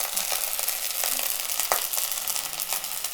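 Vegetables for Kerala avial, such as carrot, yam, plantain and brinjal, cook in a little oil, giving a steady, close sizzle with light crackles and occasional soft stirring taps, without any talking.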